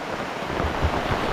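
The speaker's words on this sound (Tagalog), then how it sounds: "Lakas ng ulan ay." Heavy rain pours steadily across a coconut grove, a dense, even hiss of water with a faint low rumble underneath, continuous for the whole moment with no voices.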